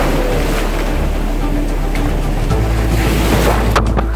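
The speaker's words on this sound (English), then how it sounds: "Wild waves! Only the toughest can handle them." Heavy surf rolls and crashes continuously at Pensacola Beach, loud and close, with strong wind buffeting the microphone throughout.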